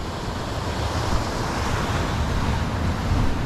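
Ocean waves wash against the rocky shore at Acadia in Maine, a steady, close surf roar with rumbling wind noise on the microphone throughout.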